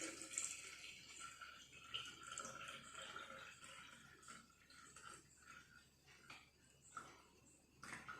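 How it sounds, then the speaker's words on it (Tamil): Water poured from a jug into a ModiCare Cuckoo Premium alkaline water filter pitcher gives a faint, steady splashing trickle that fades and returns, quiet and close with a soft background hiss. "இப்போ ஒரு சொம்பு தண்ணியை வந்து நான் இதில் வந்து ஊற்றிட்டேன்"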